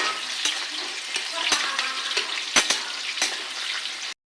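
Mutton sizzles and fries in a hot wok while a spatula stirs it, scraping and clanking sharply against the metal a few times over a continuous crackle that cuts off abruptly at the end.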